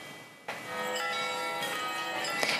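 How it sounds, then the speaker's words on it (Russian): Church bells ring at the Peter and Paul cathedral in Neftekamsk, a loud, sustained metallic peal with fresh strikes layering over the ringing tones, heard alone. "Под звон колоколов образ занесли в храм"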